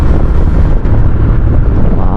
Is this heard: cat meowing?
no